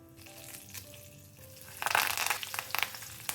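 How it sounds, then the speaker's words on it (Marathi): Asafoetida, mustard seeds and curry leaves hit hot oil for a tempering, starting with a low hiss, then bursting into loud crackling sizzles and rapid popping spatters midway through. "हिंग, मोहरी आणि कढीपत्त्याची फोडणी देऊ."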